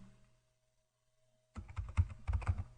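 Keystrokes on a computer keyboard while entering Python code, a burst of quick, close clicks starting after a silent pause and continuing in an uneven rhythm to the end.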